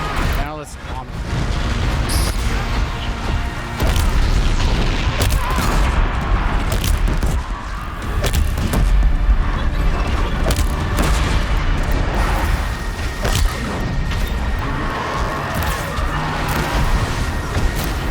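Dense, continuous explosions and booms from bombs in the action game Horizon Zero Dawn: The Frozen Wilds, played on very hard difficulty, rolling on loudly for the whole stretch with overlapping blasts and game music beneath.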